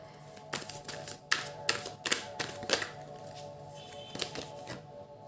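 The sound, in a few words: tarot cards being taken out and handled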